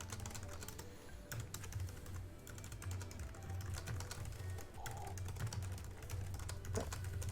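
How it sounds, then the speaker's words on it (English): Fast, continuous typing on a computer keyboard, a quiet, steady patter of rapid key clicks close by with no talking. "JP's just typing furiously, just to prove himself"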